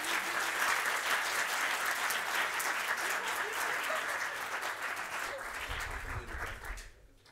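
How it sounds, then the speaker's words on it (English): A conference audience at a web developer event applauds a speaker, a thick, loud burst of clapping from many people that holds steady and then fades out near the end. "So let's give Amanda another round of applause."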